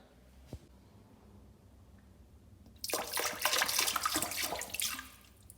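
Liquid, 70% acetic acid, pours into a drained toilet bowl. It starts as a faint splash, then becomes a loud, continuous rushing pour that runs for a couple of seconds and tapers off. No one speaks.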